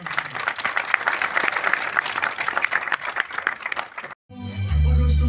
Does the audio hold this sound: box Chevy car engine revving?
no